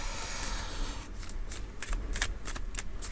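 Tarot cards are shuffled by hand close up, a dense continuous riffling followed by several crisp card flicks and slaps as cards are drawn, with no speech.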